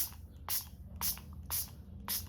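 Four quick hissing spritzes from a spray bottle onto aluminum foil, evenly spaced about half a second apart, close and fairly loud.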